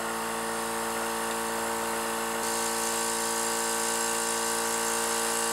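A Temptu airbrush compressor hums and blows air in a continuous, steady electric whine with a constant pitch, close and uninterrupted, with no voices.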